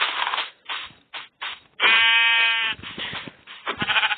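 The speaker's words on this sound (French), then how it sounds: "Et le mouton, donne-moi ta laine" A Minecraft sheep in the video game bleats in one loud, close, wavering cry, set among short choppy game sounds and clicks before and after it, with no talking.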